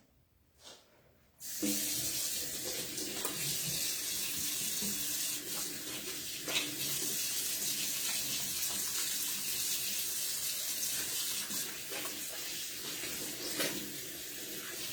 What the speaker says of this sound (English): So I'm gonna go wash my hands.